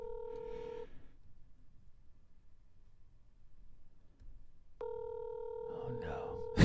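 Phone-a-friend telephone tones play in a game show video game: a short two-tone beep, then a pause of near silence, then a longer tone with overlapping babble near the end. Voices are heard at the start and close.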